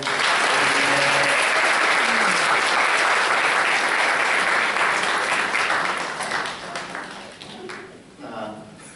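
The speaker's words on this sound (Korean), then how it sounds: "다 같이 박수" Dense applause from a crowd celebrating a song at a spring gathering, loud and steady for about six seconds before thinning out, with voices talking over it.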